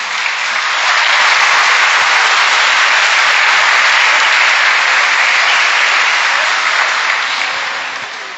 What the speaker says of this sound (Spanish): aplauso para José Raúl.